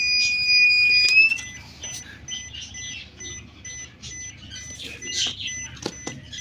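A lithium battery voltmeter sounds its low-battery alarm with a close, steady electronic beep. The tone breaks into shorter intermittent pips, and faint room noise sits underneath.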